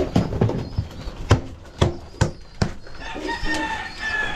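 On a farm, irregular clopping thuds come close up, followed by thin high chirps from chicks that grow more noticeable toward the end.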